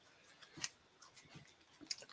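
Playing cards from an X-Files collectible card game are shuffled quietly at a table, giving faint, irregular snaps and soft slides with a few sharper clicks, close but low in level, without talking.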